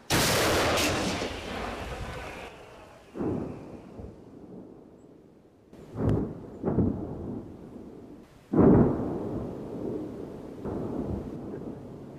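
A burst of heavy booms and sharp reports, several separate blasts spaced seconds apart, each with a rolling decay, loud and outdoors.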